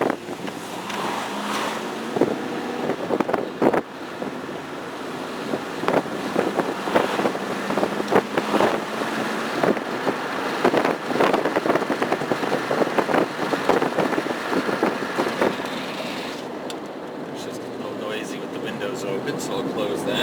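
Cabin noise inside a moving 1996 Ford Explorer XLT all-wheel drive, a steady broadband road and engine roar with wind rush and occasional clicks and thumps, continuous and fairly loud for the whole stretch.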